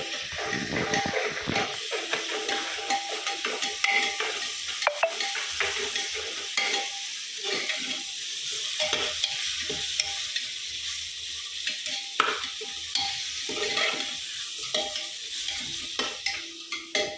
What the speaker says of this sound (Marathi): आता हे खूप छान हलवून घेतो.